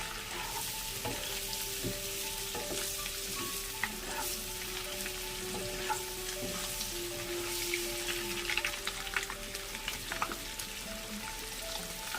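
Boiled egg pieces frying in masala for a dhaba-style egg curry, a continuous busy sizzle with frequent stirring scrapes and small pops, close and steady.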